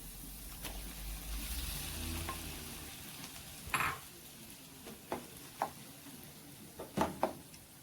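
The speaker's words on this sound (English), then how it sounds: "Then I am going to add my saltfish." Saltfish sautéing with chopped green onions in a pan for Jamaican ackee and saltfish seasoned rice, a soft steady sizzle broken by several sharp clinks and scrapes of a utensil against the pan.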